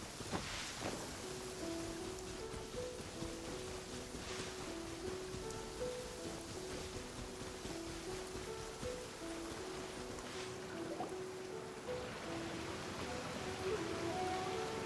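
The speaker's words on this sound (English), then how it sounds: "It's raining again." Steady rain falls in Genshin Impact, a soft continuous hiss with patter spread through the whole stretch, heard under a sustained tonal music bed and with no talk.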